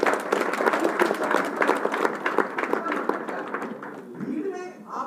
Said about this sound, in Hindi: अपने लिए बात तालियां बजा लीजिए।